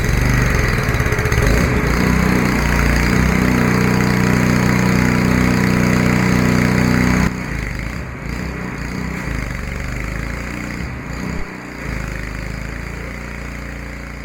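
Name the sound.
power washer running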